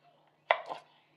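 A kitchen knife makes a single quick cut through a banana, a short soft chop with a brief trailing scrape, heard up close in an otherwise quiet room.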